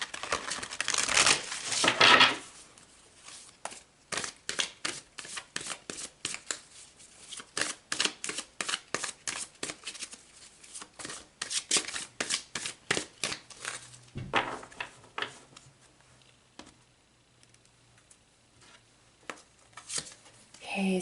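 Tarot cards being shuffled by hand, with repeated quick riffling and snapping bursts in an uneven rhythm. The shuffling is close and crisp and continues for about twenty seconds before it trails off into quieter handling.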